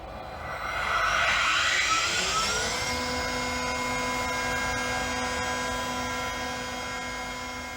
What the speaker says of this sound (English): initiate the spindle warm-up routine